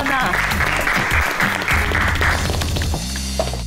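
A studio audience applauds through a Turkish daytime cooking competition show, dense clapping mixed with music and a host's voice.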